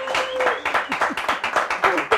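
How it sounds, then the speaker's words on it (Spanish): A studio audience applauds for the monthly prize winner on a Spanish-language magazine TV show, a steady patter of clapping that runs for about two seconds with no talk over it. "Un fuerte el aplauso para la ganadora del mes."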